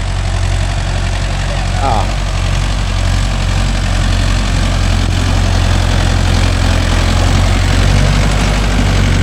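A Mahindra Yuvo Tech Plus 585 4WD tractor engine runs with a steady, loud, low diesel rumble throughout, close by, while someone speaks over it.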